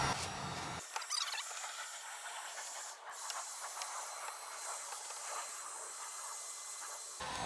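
Heat gun blowing hot air onto a fiberglass Duraflex V3 Rocket Bunny style spoiler for a GT86/BRZ/FRS trunk, a loud steady airy hiss running almost the entire time, alone without talk.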